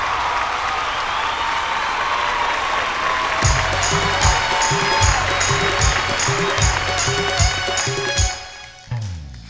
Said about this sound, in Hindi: जोरदार ताली से आज स्वागत करी ज्योति साहू की